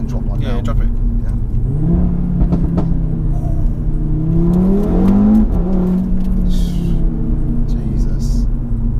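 A Stage 1 tuned Audi RS3 rated at 424 bhp revs loudly from inside the car, its engine note rising and falling as people talk over the steady rumble.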